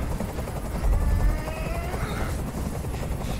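A helicopter from the video game Detroit: Become Human drones and thumps continuously with a low rotor rumble and whine, swelling briefly louder, steady throughout with no speech.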